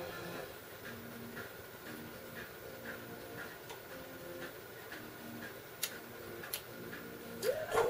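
A train clatters along rails in the background with a steady, faint tickety-clack rhythm, and a few sharper clicks sound near the end.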